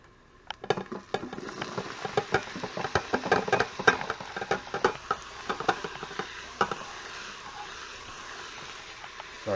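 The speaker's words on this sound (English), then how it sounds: "let's get them onions in there" Onions being stirred into a hot Instant Pot, with rapid crackling sizzle and scraping stirs forming a dense, close, irregular pattering for the whole stretch, no talk over it.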